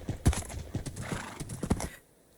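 A horse in Minecraft whinnies and clops its hooves in uneven bursts, fairly close and moderately loud, fading to near silence at the end.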